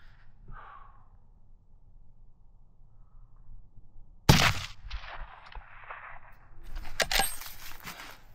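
A rifle fires a single loud, sharp shot during an elk cartridge test at about 275 yards, preceded by quiet breathing and followed by rustling and handling of gear outdoors.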